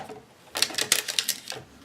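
A Big Shot die-cutting machine is cranked to cut embossed feathers, giving a close burst of rapid clicking, ratcheting clatter lasting about a second, with no talking.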